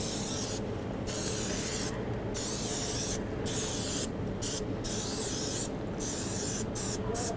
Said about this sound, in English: we're just gonna spray the pan down so it's not sticking. We're using coconut oil spray today.